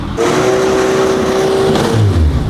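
Rebuilt formula race car drivetrain spinning up on the stand, a steady whining tone that holds and then shifts to a different pitch as the next gear engages, with mechanical rattle underneath.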